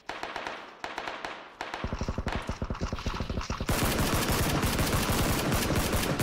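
Dense automatic gunfire in a PUBG squad match, played on Xbox One X, comes in quick rhythmic bursts that build into a continuous, loud, close barrage.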